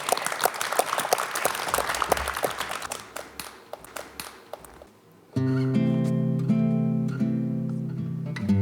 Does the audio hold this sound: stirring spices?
no